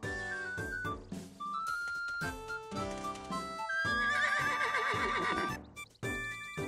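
Horse neighing in distress in the video game Miitopia, repeated whinnies against a busy game music backdrop, loud and close, with a few clip-clop-like beats.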